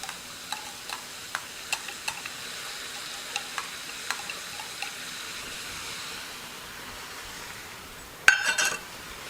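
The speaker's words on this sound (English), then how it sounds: "All right, mushrooms and our onions are starting to cook down just a little bit." Garlic, mushrooms and onions cooking in oil give a faint, low sizzle with occasional sharp clicks of a stirring utensil, ending in a brief louder scrape.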